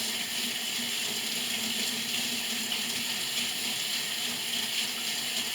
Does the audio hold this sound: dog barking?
no